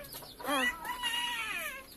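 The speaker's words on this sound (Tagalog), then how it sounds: "Ayun, ang mga manok." Chickens clucking and calling close by, a few overlapping squawky calls rising and falling, with no talking.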